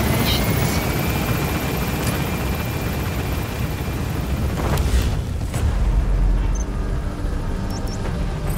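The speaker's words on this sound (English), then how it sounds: "Select a landing zone. Support helicopter." A support helicopter arrives for extraction in the video game Metal Gear Solid V: The Phantom Pain, its rotor roar loud and steady throughout, with a brief burst of radio-style voice partway.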